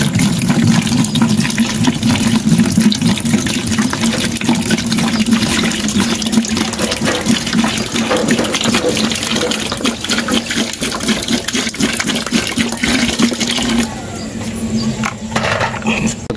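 About 1.5 units of water pour into an empty bucket to mix limewash plaster, a continuous rushing splash filling the space at steady loudness, slightly thinning toward the end, with no talk.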